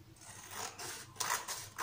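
Scissors snip through a stiff paper plate in a few crisp, close cuts, with short bursts of rustling between them and no talking.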